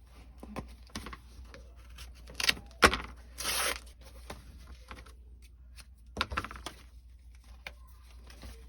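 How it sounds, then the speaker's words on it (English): A zipper is pulled open on a handmade vinyl purse made from printed vinyl panels. There are two short, raspy zipping runs in a quiet room, with light handling noises between them. "you reach in and unzip the zipper"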